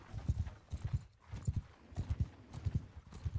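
Saddle horses in Mount & Blade 2: Bannerlord give off steady, rhythmic clip-clopping hoofbeats in quick clustered groups, moving slowly, loud and alone with no talk.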